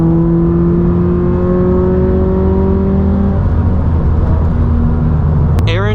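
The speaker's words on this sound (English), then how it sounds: "Ellie, we're gonna do a 4th gear pull bay, okay?" Engine of a 2022 Subaru BRZ pulling hard in fourth gear, a loud, close, rising drone that climbs steadily in pitch, then drops abruptly as the revs fall, with a brief whine near the end.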